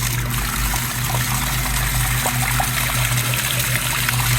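Water trickles steadily from a pool sand filter set to rinse, a close, continuous dribbling over a low pump hum, with no one talking.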